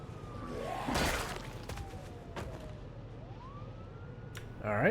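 A police or emergency siren wails from a distance, its tone sliding slowly downward then rising again, under steady traffic-like background rumble, with brief whooshes and a louder burst near the end.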